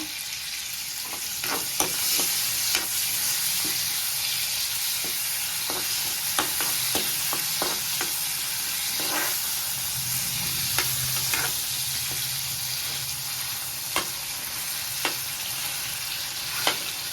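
Cumin and raw green mango fry and sizzle in a pan for a chutney, a constant close hiss broken by frequent clicking scrapes from stirring.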